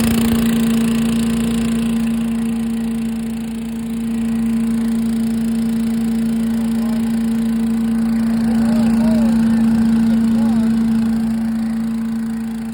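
A Cub Cadet ZT1 54-inch zero-turn riding mower engine runs steadily nearby with a loud, constant droning hum and a faint rise and dip in level, no talking.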